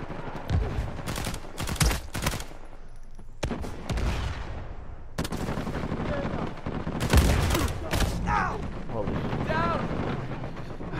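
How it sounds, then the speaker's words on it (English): Gunfire in Uncharted 4 multiplayer crackles in rapid bursts of loud shots and explosive blasts that come and go, with a player talking over parts of the fight. "What was he shooting me with?"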